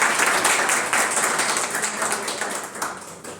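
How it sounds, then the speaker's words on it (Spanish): An audience applauds at a professional initiation workshop, dense clapping close and steady that slowly fades over a few seconds. "les pido un aplauso para el doctor"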